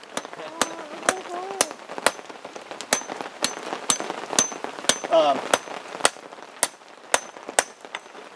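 Hot knife steel hammered on a rock anvil outdoors in the woods in the rain: sharp, ringing metallic strikes land at a steady beat over the patter of rain, with brief voices in the background.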